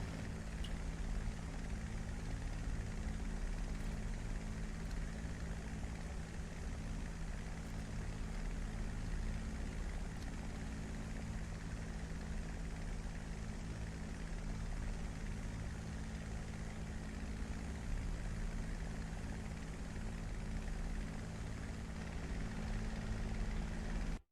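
A Spitfire's propeller engine drones steadily in a flight simulator game, a constant loud roar with no talk across it.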